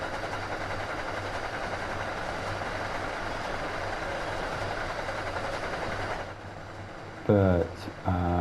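An MBTA Providence line commuter train bound for Boston in Train Sim World 2 rolls along with a steady engine and rail rumble. The drone drops away near the end, where a brief voice and louder cab sounds break in.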